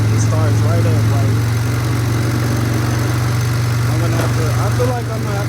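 A Polaris Sportsman 500 ATV, freshly carbureted after sitting six years, idles steadily and slightly high with a loud, constant low engine drone close by, while a voice talks over it.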